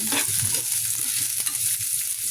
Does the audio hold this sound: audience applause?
no